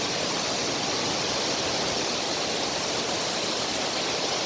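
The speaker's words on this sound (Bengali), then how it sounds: "দেখো জলের কি ফ্লো" Water rushing at Kolakham waterfall, a dense steady roar that fills the whole clip without pause.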